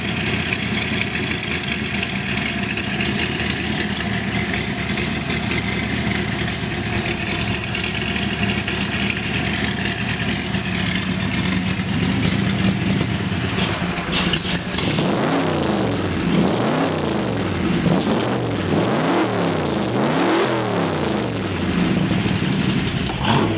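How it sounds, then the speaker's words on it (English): A 1965 Shelby Cobra replica sports car engine idles with a steady, loud rumble, then revs in a series of rising and falling bursts near the listener, with no talking. "Let's take the Cobra a ride."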